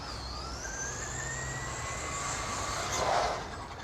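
A Traxxas Slash 2WD RC car at half power gives a high, steady motor whine that climbs in pitch, with a brief louder swell near the end over a constant background rush.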